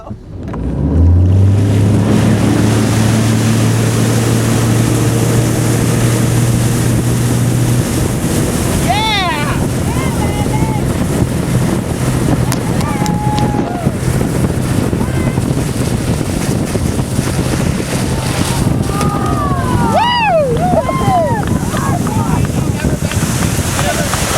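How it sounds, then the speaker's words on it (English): A motorboat engine starts up and settles into a steady low drone as the boat takes off across the water, with wind buffeting the microphone and waves rushing throughout; short shouts and calls rise briefly over the din. "Really go back when the boat takes off."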